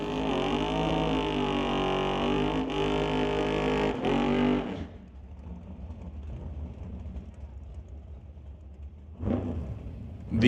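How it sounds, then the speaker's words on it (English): A drag racing dragster's engine roars loudly at a racing event for about five seconds, then cuts off abruptly, leaving a low distant rumble before another brief burst of engine noise at the end. "Burnouts complete for Jeremy Soares in the Dragster"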